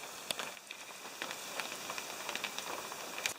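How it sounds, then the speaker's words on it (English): Steady rain patters outside a wooden hiking shelter in Estonia, with scattered close drips and taps sounding over a soft, even hiss. "it's raining outside and I don't want to leave here"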